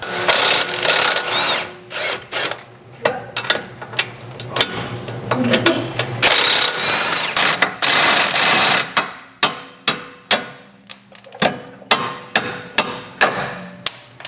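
An impact wrench on an 18 mm fastener removes the sway bar link from the strut of a Ford Maverick Hybrid, sounding as sharp, close bursts of hammering, longer rattling runs early on, then a string of quick separate hits.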